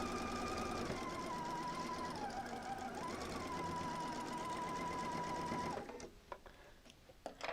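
Sewing machine stitching a quilt seam over pins, running steadily at a slow, even pace with a close mechanical whir, then stopping, followed by faint handling sounds.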